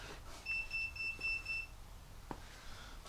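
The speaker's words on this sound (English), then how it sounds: "What was that beeping?" A thin electronic beep sounds in a quick run of pulses lasting about a second, moderately loud, in a garage where a 1980 Suzuki GS 550 motorcycle is being worked on, followed by a short knock and quiet background.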